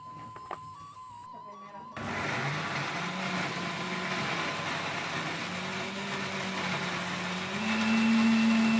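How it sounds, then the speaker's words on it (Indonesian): A kitchen blender whirs loudly as it purees curly red chilies for chicken rendang, starting abruptly after a short quieter stretch and running steadily, its pitch rising slightly near the end. "Sekarang cabai merah keriting akan saya blender juga."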